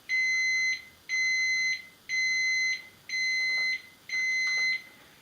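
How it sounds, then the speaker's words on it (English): An HLP Controls cook-chill thermometer and timer unit beeps with its probe unplugged: five evenly spaced, loud electronic tones about a second apart, each lasting over half a second. "if someone happens to unplug the probe while you're measuring temperatures, the unit will start beeping."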